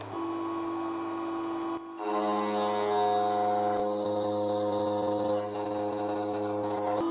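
A desktop CNC mill cuts with a 1/8 inch two-flute tungsten carbide end mill, making a steady, loud whine and hum with sustained tones that shift pitch as the cut changes, briefly dipping before resuming.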